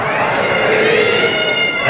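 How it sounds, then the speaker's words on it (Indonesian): Sustained applause from an audience at a Maulid Nabi gathering in a mosque, a dense steady patter of many clapping hands with crowd murmur mixed in, loud and continuous throughout. "Tepuk tangan."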